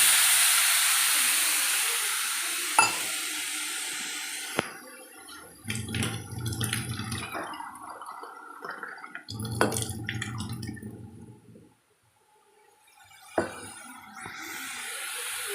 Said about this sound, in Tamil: இப்போ நாம் அதுக்கு தேவையான தண்ணி நாம் ஊற்றி வேக வச்சுருவோம்